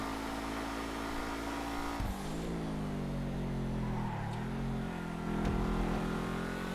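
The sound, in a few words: Dewbauchee Seven-70 car engine in video game GTA Online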